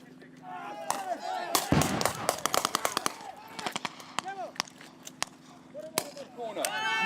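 Rapid gunfire cracks and loud mortar-like blasts burst close and repeatedly during a simulated attack in a military training exercise with Gurkha soldiers, with shouting voices and talk heard between the shots.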